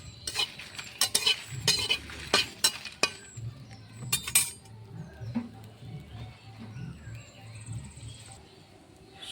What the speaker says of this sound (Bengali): আমি তরকারির জন্য কাঁচা লঙ্কা শুকনো লঙ্কা ভেজে নিচ্ছি হালকা করে আগেই শুকনো খোলাইতে